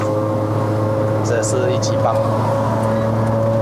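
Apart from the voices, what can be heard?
Proton Inspira 4B11 2.0L naturally aspirated engine, heard through window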